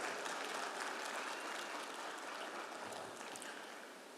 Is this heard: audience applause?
yes